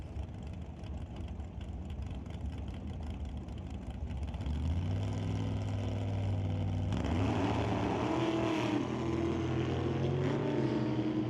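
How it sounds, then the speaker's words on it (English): Drag racing roadsters, one an altered, launching with wheel spin at a test-and-tune event: loud sustained engine roar that climbs in pitch and swells partway through, steady and heavy throughout with no voices. "Bit of wheel spin for the Alter, but Ted Boss getting out in front of it, and he's going to look to fire that one in"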